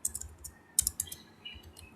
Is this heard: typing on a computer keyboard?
yes